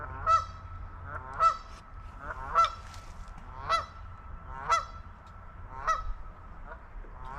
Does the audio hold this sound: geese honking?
yes